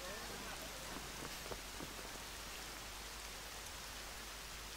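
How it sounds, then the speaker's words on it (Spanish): Rain in the video game Dragon Quest XI, a steady soft hiss of rainfall with scattered faint drop patters, quiet and even throughout. "Esa lluvia no pinta nada bueno."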